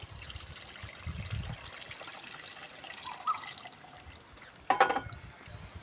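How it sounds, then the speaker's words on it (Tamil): Tamarind water pours and trickles steadily into a pan for Chettinad-style fish curry, with a brief louder splash near the end and a faint low background hum. "நான் கரைச்சி வச்ச புளியை சேர்த்துட்றேன் புளி தண்ணியை"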